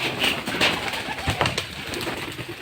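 Pigeons kept in a loft, with a soft cooing and fluttery bird calls over steady background noise, a few brief louder bursts rising near the start and middle.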